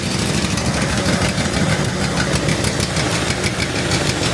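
A farm tractor or machine engine runs loud and close on a cold day, a steady rough idle with a knocking rumble throughout.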